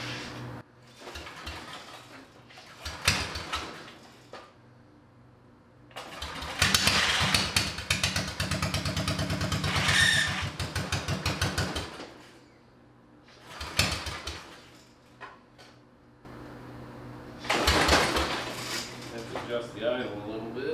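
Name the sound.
mini bike engine starting and running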